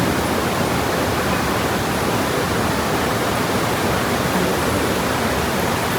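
Rainy-season water rushing along in full flow: a loud, steady broadband roar like a stream or small waterfall, continuous and unbroken for several seconds, with no voices.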